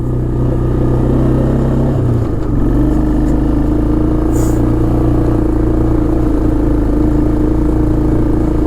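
A 1996 Arctic Cat 454 Bearcat 4x4 ATV with a liquid-cooled Suzuki 454 four-stroke engine runs loud and close, a steady low drone that shifts pitch once early on, then holds.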